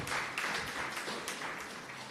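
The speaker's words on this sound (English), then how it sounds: "Let us give all the persons who gave tributes a round of applause." A quiet round of audience applause at a mentors and volunteers appreciation cocktail, soft, steady clapping from a small gathering that sounds somewhat distant and fades slightly toward the end.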